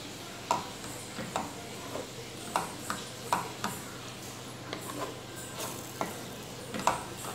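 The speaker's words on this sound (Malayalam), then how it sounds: "നല്ല വൃത്തിയായിട്ട് അത് മിക്സ് ചെയ്ത് കൊടുക്കുക" Parotta pieces and egg stirred in a hot pan for kothu parotta, with regular clinks and scrapes of a spatula every half second or so over a low sizzle, close and unaccompanied by talk.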